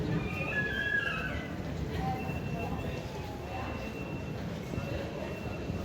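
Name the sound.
London Underground Northern Line train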